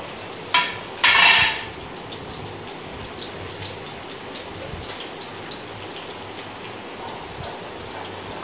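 Chopped onions and two green chilies hit a hot pan for chicken curry, giving a sharp, loud sizzling burst that settles into a quieter, steady frying hiss.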